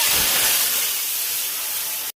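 Water poured into a hot kadhai of oil tempered with cumin and mustard seeds, releasing a loud, sustained burst of hissing steam that stays strong before cutting off abruptly, with no talking.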